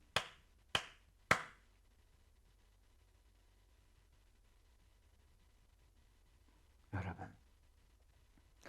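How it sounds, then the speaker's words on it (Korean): During a church service, a few sharp, isolated claps ring out in quick succession, then a short, rougher burst follows after a long quiet stretch. The sound is faint in a hushed room. "박수를 쳐야죠."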